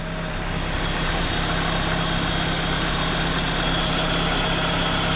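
A BMW E46 idles in neutral, producing a steady, even engine drone with a constant low hum that holds unchanged throughout, close to the microphone.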